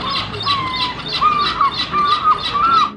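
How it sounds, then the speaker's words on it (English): Gull squawks in a quick repeating series of harsh, rising calls, close and fairly loud, several cries following one another at a steady pace. "The more seen as correct term for this bird is gull."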